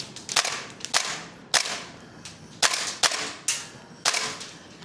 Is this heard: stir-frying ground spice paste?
no